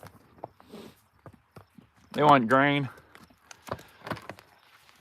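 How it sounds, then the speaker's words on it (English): Horses walk nearby, their hooves giving scattered, light clip-clop knocks on the ground while a person talks over them. "Here's the horses."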